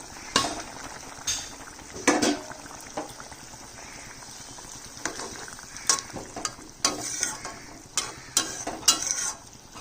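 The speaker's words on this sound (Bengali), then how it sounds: "ঝোল ফুটে গেছে। আর এই যে ভাজা মাছটা দিয়ে দিচ্ছি।" Fried fish going into a thin curry broth boiling with potatoes and vegetable stems: bubbling simmer with repeated sharp splashes, clinks and stirring knocks throughout, nearby and moderately loud.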